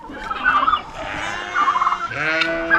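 Homestead chickens being fed pork scraps make loud, close, tonal calls in several bursts, bubbling clucks and squawks with a gobbling quality, separated by brief gaps.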